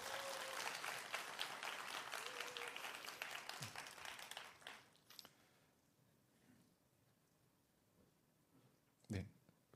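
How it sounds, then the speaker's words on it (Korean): An audience at a 2014 Gangwon provincial education superintendent debate claps in a dense burst that thins and fades after about five seconds, leaving a quiet room with a few scattered clicks and one sharp knock near the end. "끝까지 완주하시라고 큰 박수 부탁드리겠습니다"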